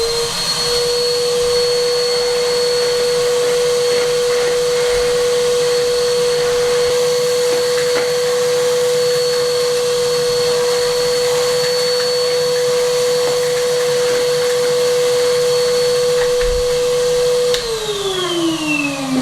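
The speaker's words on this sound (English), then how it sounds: "If you don't hoover it out, the stuff won't stick to it, obviously." A vacuum cleaner hoovers out a channel in an old hay loft wall on a Spanish finca, running loud and steady for the whole stretch, its motor pitch dropping slightly near the end.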